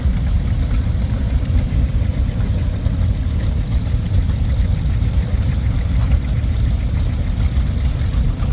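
A steady low rumble from an antique Missouri-built engine runs without a break, a heavy idling throb close by, with no voices over it.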